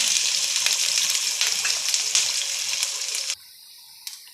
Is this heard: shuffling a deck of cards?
no